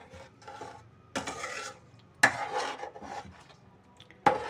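A spoon scrapes and stirs chicken curry in a metal pot, making several separate clattering strokes with short scraping bursts between quieter gaps, close up and without talk.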